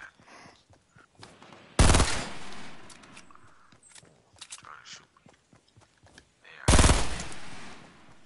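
Bursts of Fortnite gunfire come in two loud, dense volleys a few seconds apart, each lasting about a second, with scattered footsteps and game clicks between them.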